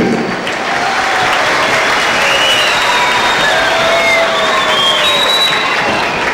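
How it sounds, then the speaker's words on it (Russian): A large crowd at an intercontinental tournament in Khasavyurt applauds loudly and continuously, with scattered cheers and whistles rising over the steady clapping. "Давайте еще раз аплодисментами поприветствуем команду"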